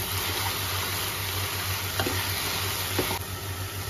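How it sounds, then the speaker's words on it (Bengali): Jute leaves with salt and turmeric fry in a pan, giving a steady close sizzle with a couple of faint stirring scrapes and no talking. "এবার শাকের সাথে ভালো করে মিক্স করে নেব।"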